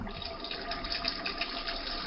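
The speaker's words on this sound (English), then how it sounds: "I'll need some hot water. Well, wait, there's a sink over there, Kent." Hot water runs steadily from a sink tap in a radio-drama scene, a continuous hissing splash that stays even and close throughout with no voices.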